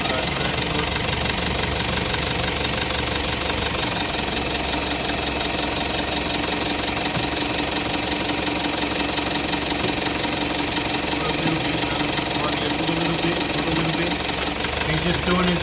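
A car engine runs steadily and loudly while being shifted slowly through the gears, a continuous knocking drone with people talking over it.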